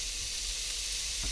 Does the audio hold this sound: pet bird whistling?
no